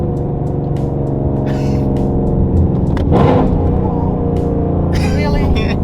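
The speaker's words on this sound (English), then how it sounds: "get her reaction for some rev match downshifts" Whipple supercharged Mustang GT running through rev-matched downshifts, a steady loud engine drone inside the cabin with brief blips and swells, people talking over the rumble.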